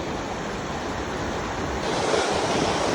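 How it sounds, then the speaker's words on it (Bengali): A waterfall near Sylhet roars as a continuous, loud, broadband rush of falling water with some wind buffeting, steady throughout with no voices. "এই যে সামনে ঝর্ণা"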